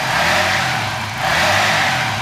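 Suzuki FU 150 fuel-injected motorcycle engine with bored-up cylinder and stock ECU, running on a dyno with a steady, loud mid-pitched engine roar that swells slightly without climbing to high revs.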